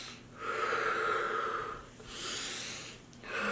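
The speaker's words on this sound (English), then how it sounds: "I was just like breathing, just trying to contain myself" A person breathing slowly and heavily to calm down, three long, airy breaths with pauses between them, close and quiet, with no talking.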